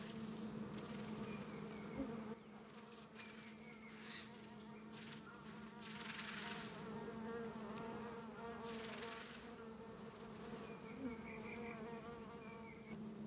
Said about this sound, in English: The bees fan their abdomens in unison, a defensive wave warning off potential honey raiders.